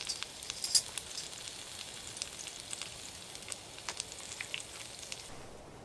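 Ribeye steak fries in butter on a tent stove during solo camping, giving a soft, steady sizzle with scattered faint pops and crackles, close by and quiet, with no talk.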